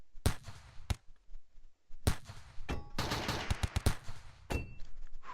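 Autogun turrets firing in the RimWorld colony game: short bursts of loud, sharp gunshots, separated by brief pauses and then merging into a dense rapid volley, with no talking.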